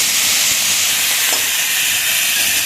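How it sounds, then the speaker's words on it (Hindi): Steady, bright hissing sizzle of vegetables frying in hot oil with a mustard seed tempering, loud and close, with no voices. "सरसों का तड़का लगा के जरी को भूनने के लिए डाल देंगे"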